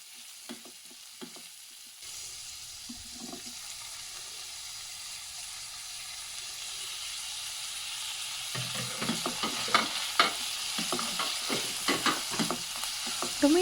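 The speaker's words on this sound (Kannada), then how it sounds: "ಒಂದು ಟೊಮೆಟೊ ಹಚ್ಕೊಂಡಿದ್ವಲ್ಲ ಸಣ್ಣಕ್ಕೆ, ಅದನ್ನು ಹಾಕ್ಕೊಂಡು ಸ್ವಲ್ಪ ಅದು ಸಾಫ್ಟ್ ಆಗೋವರೆಗೂ ಚೆನ್ನಾಗಿ ಬೇಯಿಸ್ಕೊಳ್ಬೇಕು." Chopped tomato stir-frying in a pan for a paddu stir fry, with a steady sizzle and repeated scraping stir strokes that grow louder and busier in the second half.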